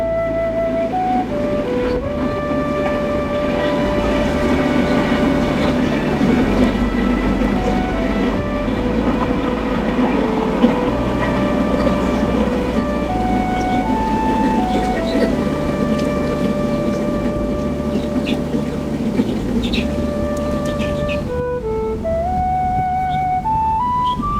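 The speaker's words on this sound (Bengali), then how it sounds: "বাড়ির সামনে দিয়ে যখন ট্রেন যায় এই পাকা ধানের মাঝখান দিয়ে" A train rolls past a village house through ripe rice fields at harvest time in rural Bangladesh, a loud steady rumble lasting the whole stretch, overlaid with sustained melodic tones.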